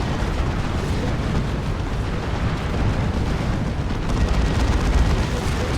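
Explosions tearing down a building and its walls in the Warhammer 40,000: Dawn of War 2 battle between Imperial Guard and Orks, a dense continuous rumbling roar of blasts and booms that surges louder toward the end.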